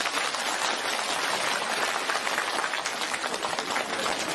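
A dense, sustained wash of applause from many hands fills the whole stretch at an even, fairly loud level, with no voices standing out.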